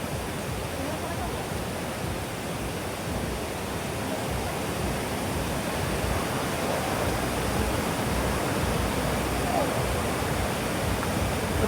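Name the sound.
flowing stream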